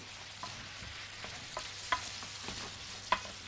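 Chicken pieces and peppers stir-fry in a pan for a chicken stew, with a soft sizzle under intermittent scraping stirs and a few sharper clinks of the utensil against the pan, no voices.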